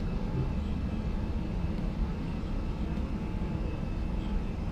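Airbus A320 engines drone in a steady, low, even roar during a climb in Microsoft Flight Simulator 2020, faint and unbroken with no talking.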